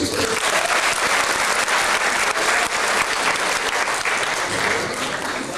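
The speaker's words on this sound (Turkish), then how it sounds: "Ona da bir alkış" A concert audience at a 2007 show in Van gives sustained applause, a dense, loud wash of clapping from a large crowd that fills the whole stretch.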